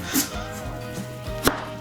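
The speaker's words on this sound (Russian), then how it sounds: "Сначала я разрезаю морковь на 2" Two sharp knife chops through a carrot on a cutting board, one early and one near the end, with a quiet kitchen background between them.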